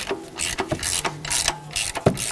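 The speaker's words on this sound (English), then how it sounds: "Grab a 19mm socket, slide it over, and loosen up the PCV valve." A ratchet on a 19mm socket loosening the PCV valve of a 2010-2015 Lexus RX350 clicks in several quick close-up strokes, making irregular ratcheting clacks and metallic scrapes.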